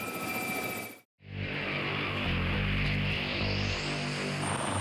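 A new AgustaWestland AW139 helicopter roars loudly after a brief cut, its rotor and turbine producing a steady, powerful, throbbing drone that rises slightly in pitch, with no talking.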